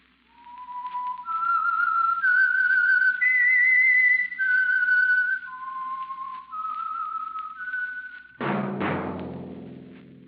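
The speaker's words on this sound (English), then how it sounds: "That whistle is your signal for the Signal Oil Program, The Whistler." A solo whistler carries the melodic signal theme of an old radio mystery drama, clear sustained notes stepping up and down, ending as an orchestral chord swells in.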